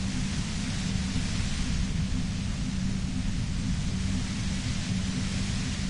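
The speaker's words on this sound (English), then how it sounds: "You hear through the white noise. It's especially bad suddenly." Steady, loud broadband white noise from the Disco Elysium video game, a constant unbroken hiss filling the whole span with no pauses or voices.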